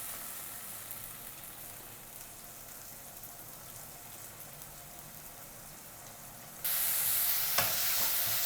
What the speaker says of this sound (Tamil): இப்போ நான் அரைச்சி வச்சுருக்கிற இஞ்சி பூண்டு பச்சை மிளகா இதையும் நல்லா இது கூட வதக்கிடுங்க